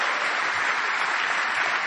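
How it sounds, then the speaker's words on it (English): A political rally crowd fills the space with steady, dense applause, a continuous wash of many hands clapping at even loudness throughout, with no distinct voices over it. "Give her a round of applause."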